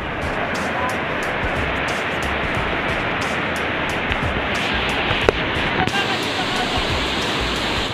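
Steady broadband wash of surf rolling on a shore, continuous and fairly loud, with a couple of faint clicks partway through.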